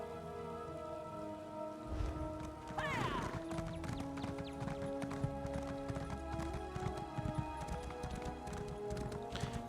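Rhythmic hooves of a galloping horse in The Elder Scrolls Online, a steady clip-clop beat running the whole time over constant game music and ambient patter, with no talk.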